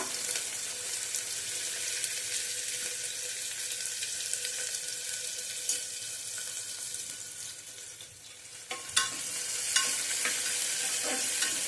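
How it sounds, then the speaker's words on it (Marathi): Finely chopped small onion sautés in a hot pan, producing a dense, even sizzle close up, with a few sharper clicks and scrapes of a stirring spoon near the end. "कांदा छान लाल होईपर्यंत परतायचा आहे."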